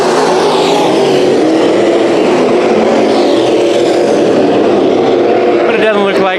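Dirt track race cars racing at Bakersfield Speedway during heat races, a loud continuous engine roar from the pack with a commentator talking over it.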